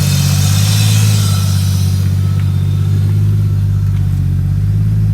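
Loud, steady engine note from a Nissan Skyline R33 GTST, a barn-find car, holding a strong mid-range drone with a revving surge early on, close and continuous with no talking.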